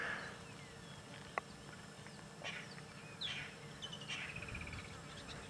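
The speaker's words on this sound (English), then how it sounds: "For a bird with such beautiful colors, it's got a very, very harsh call." Harsh, scratchy calls of a brightly colored bird on a sunset safari: a few short bursts scattered over steady outdoor background, fairly distant and moderately faint.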